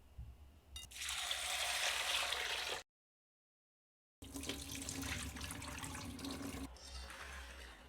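Yellow split peas rinsed under a running kitchen tap, a close gush of water into a sink that stops abruptly, then a second longer stretch of rushing, draining water, with no speech.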